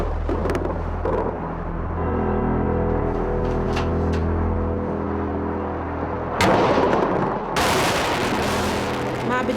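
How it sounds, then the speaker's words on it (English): Bombing and anti-aircraft fire over Baghdad: a continuous rumble of distant artillery and gunfire with scattered sharp bursts, then loud, close blasts of explosions and heavy firing toward the end. "Baghdad was bombed with incredible intensity"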